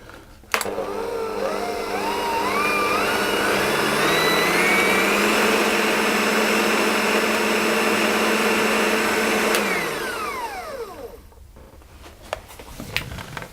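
An electric mixer whirs through cookie dough for almond stuffed cookies, holding a steady loud motor hum that swells slightly before it winds down and stops. A few clanks follow.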